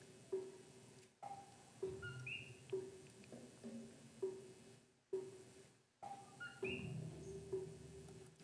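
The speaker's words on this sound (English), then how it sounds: "we can just play a little bit so you can hear what this frog sounds like" Coquí frogs calling in Puerto Rico, repeated two-note whistled chirps rising in pitch, about a dozen evenly spaced calls from several frogs, faint and clear over a quiet night background.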